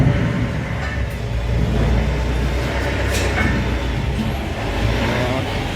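LOVOL 504 mini tractors drive off as a steady low engine rumble, with a dense, continuous drone that swells slightly and stays fairly close throughout.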